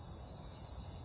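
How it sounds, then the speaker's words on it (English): Cicadas in trees around Sarasota give a steady, continuous high-pitched whine that holds evenly at moderate volume throughout, with no voices. "You can hear the cicadas in the background."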